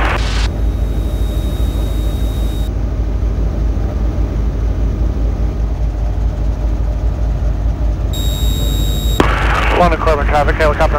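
A Schweizer S300 helicopter flies over rickhouses with a steady broadband rotor and engine roar throughout, and near the end a tone from the radio or cockpit cuts in along with brief clicking bursts.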